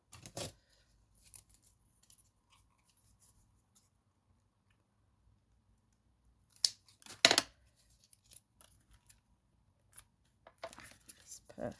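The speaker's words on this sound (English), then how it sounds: "Also, I'm going to cut it." Scissors snip through patterned craft paper in a few short bursts, with long quiet gaps between cuts and faint handling noise.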